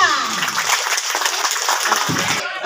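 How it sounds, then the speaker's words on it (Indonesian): Audience at an Indonesian regional council member's recess meeting breaks into sustained clapping, dense and fairly close, with faint voices mixed in. "beri aplaus buat Bapak Haji Habib S."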